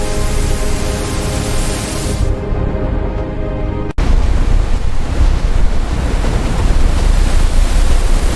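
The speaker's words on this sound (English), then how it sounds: "Watch the waves." Ocean waves at sea near a surface ship during a recovery operation, loud broadband roar and wash with heavy wind buffeting, briefly muffled before surging back fully.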